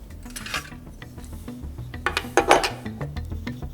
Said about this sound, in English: Tool between the fender and the carrier, and tighten the bolt.